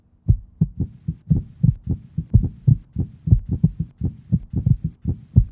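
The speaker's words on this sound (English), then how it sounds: "If we remove some of the tough fibrous coating of the heart and great vessels, you can get a better look at the heart beating." A human heart beats in a steady rhythm, each beat a close, heavy double thump, with a faint even whooshing layered over the pulses throughout.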